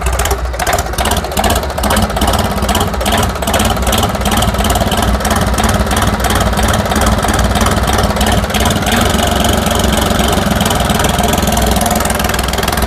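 A Yanmar three-cylinder turbo engine on a rice leaf cutting machine idles steadily and close by, a dense, even mechanical rumble with rapid ticking that holds at constant loudness throughout, with no voices.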